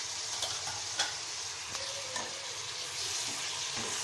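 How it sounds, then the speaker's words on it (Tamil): Chopped tomatoes frying with onions in a hot pan, a steady close sizzle with a few stirring clicks and scrapes, no voices. "இந்த ஸ்டேஜில் நம்ம வந்து என்ன பண்ணலாம்னா கட் பண்ணி வச்சுருக்க தக்காளியை ஆட் பண்ணிக்கலாம்."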